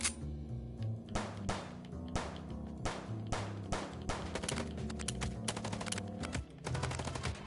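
Sustained gunfire from the video game Chicken Police, with repeated machine-gun bursts and single shots rattling in a dense, continuous barrage during a car chase shootout, loud and close throughout.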